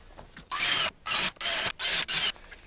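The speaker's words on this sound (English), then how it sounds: "Now I'll pre-drill the rest of all the holes." Five short whirring bursts from a power drill pre-drilling holes in plywood during a skoolie propane and fridge install, each burst about half a second with brief pauses between, close and fairly loud.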